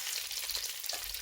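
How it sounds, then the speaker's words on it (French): Tomato paste frying in a saucepan, a steady bright sizzle that holds at close range for just over a second with no one speaking. "je vais d'abord faire frire le concentré de tomate"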